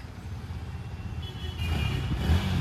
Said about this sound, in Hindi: थोड़ा रेव करके जा.